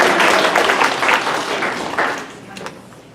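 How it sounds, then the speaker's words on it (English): Brief scattered applause from attendees at a homeless forum in Colorado Springs, a few seconds of clapping that thins out quickly. "It's okay to clap."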